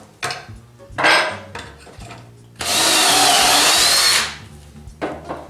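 A power drill bores a dowel hole into wood in one loud burst lasting over a second, between scattered knocks and handling clatter.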